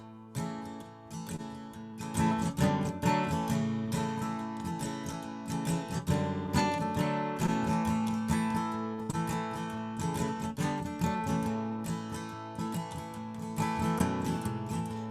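Guitar strummed in a flat 7/4 pattern for the intro of a bluegrass song, steady and fairly loud with full ringing chords and a continuous rhythmic pulse, no voices.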